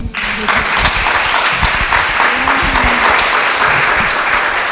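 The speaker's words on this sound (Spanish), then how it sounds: "les pido por favor un aplauso" A crowd at a conference launch ceremony applauds steadily and loudly for several seconds, many hands clapping together in a dense, sustained burst.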